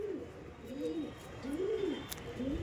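Andra pigeons coo in a soft, repeated rhythm, about four low rolling calls, fairly quiet against light background hiss.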